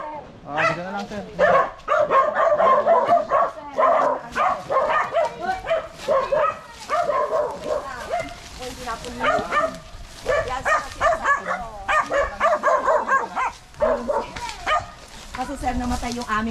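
Many dogs barking and yipping at a house, repeated loud barks in bursts with some whimpering, mixed with people talking nearby.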